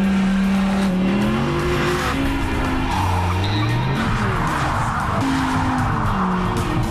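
A Dodge Viper sports car driven hard at the limit, its loud engine shifting pitch steadily with squealing tires and skidding filling the whole stretch, close and continuous without talk.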